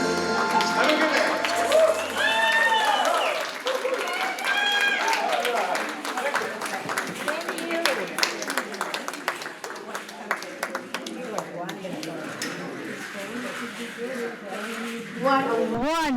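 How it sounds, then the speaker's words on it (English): Audience applause and clapping at a Unity Day festival show, with dense clapping and cheering that runs under loud talk and singing over a PA. "How about another round of applause?"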